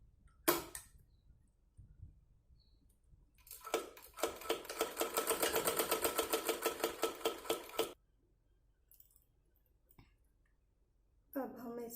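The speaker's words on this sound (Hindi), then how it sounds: "इसे सिलाई करते हुए हम दोनों तरफ से सील लेंगे इसको।" Sewing machine stitching the seams of a small net-fabric designer dress for a Laddu Gopal figure, heard as one steady rhythmic burst of rapid mechanical clatter lasting a few seconds, set between quieter handling sounds.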